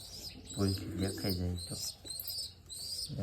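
Pigeons coo in low, throaty, repeated bursts close by, with soft chirps and light background rustle between the calls.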